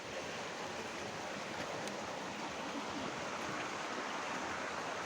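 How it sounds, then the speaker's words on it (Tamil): Water of the Thamirabarani river flowing below temple steps, a steady, even rushing wash that fills the whole stretch without pause or voices. "இப்போ கோயிலுக்கு கீழே படிக்கட்டு இறக்குனா ஆறு போகுது"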